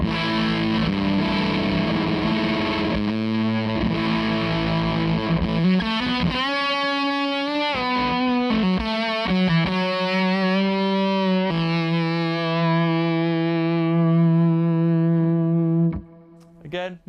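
Electric guitar playing through a Zander Circuitry Cafetiere V3 pedal set to its transistor clipping diode mode, loud saturated distorted notes and sustained chords ringing out for a long stretch before cutting off abruptly near the end.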